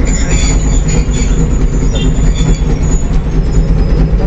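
A Kolkata tram running on its rails, a loud, continuous rumble with squealing wheels and rhythmic clicks heard from on board, steady throughout with no clear talk.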